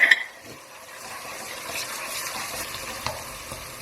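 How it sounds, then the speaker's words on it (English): Ginger and garlic stirred as they fry in a pan for a dairy-free chicken curry, giving a steady, close sizzle with light scraping of the utensil throughout. "I'm going to mix this in for about 2 to 3 minutes till the ginger and garlic releases its aroma"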